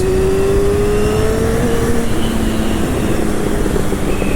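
A motorcycle engine is revved, a loud, steady drone whose pitch climbs slightly and then holds, close to the rider.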